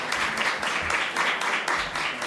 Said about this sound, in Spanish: Merecido aplauso.